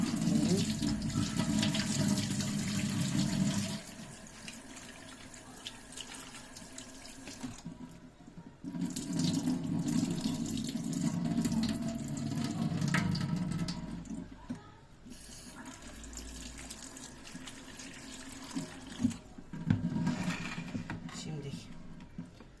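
Running tap water pours into a sink while food is washed under it, with the flow swelling and easing in stretches and people talking throughout.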